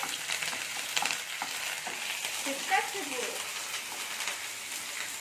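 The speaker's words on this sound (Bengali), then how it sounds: "এটা আমি ভেজে নেবো পেঁয়াজের সাথে" Ginger paste and garlic frying together with onion in a pan, a steady close sizzle with a few stirring scrapes, while a voice talks over parts of it.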